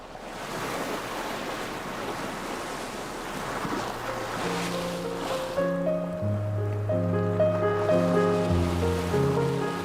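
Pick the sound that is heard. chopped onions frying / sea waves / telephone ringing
sea waves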